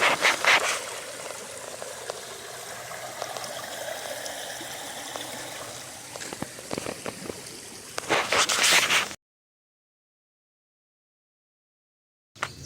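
A small stream rushes and trickles steadily near Rock Hollow Trail in Wildwood, Missouri, with some louder splashy bursts before the sound abruptly stops.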